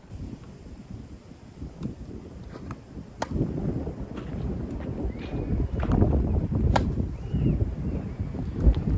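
Wind gusting across an outdoor tennis court, a low rumbling buffet on the microphone that builds and stays strong, with a few faint sharp taps and distant sounds over it.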